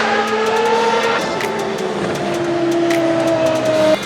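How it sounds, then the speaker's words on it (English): A Williams FW14B Formula 1 car being driven on track, its engine note holding a steady high whine that shifts pitch with gear changes and revs, close and loud throughout with no talk. "As we ride with Nigel Mansell, you see his helmet just on the left hand side"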